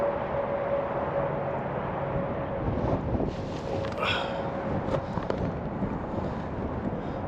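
Wind blows across an open, snowy ice-fishing spot, a continuous rough rushing and buffeting close to the microphone, with a few scattered crackles and knocks.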